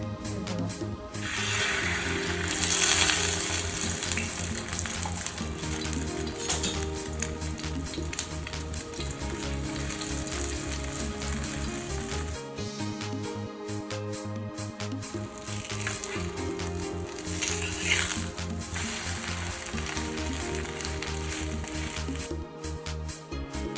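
An omelette sizzles and fries in oil on a hot tawa, a steady loud crackling hiss that runs throughout with scraping and stirring noises over it.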